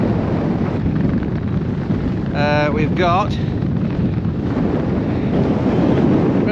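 Strong wind roars continuously across the microphone on the exposed summit of Great Cockup, a Lake District fell north of Skiddaw, loud and unbroken, while a person speaks briefly partway through.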